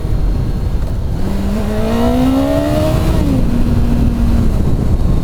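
A Kawasaki ZX-9R motorcycle with a 143-horsepower engine revs while riding, its engine note climbing in pitch and then dropping back under heavy, steady wind rush, loud and close.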